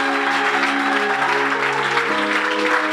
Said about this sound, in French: on va maintenant applaudir tous les applaudissements que j'avais demandé de garder là